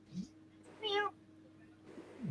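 A cat meows once clearly near the middle, a rising-and-falling cry, with a short faint chirp before and a brief low yowl at the end, fairly quiet indoors.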